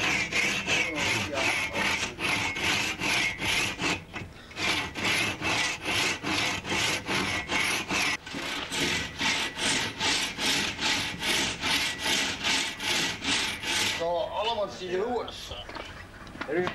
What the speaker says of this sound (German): Der Hamenmacher misst 1 Zoll ab und sägt mit der kleineren, etwa 1 Meter langen Schrotsäge an.